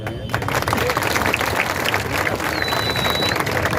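A crowd at an outdoor political campaign rally claps in a loud, dense burst of applause with murmured voices mixed in and a brief high whistle partway through.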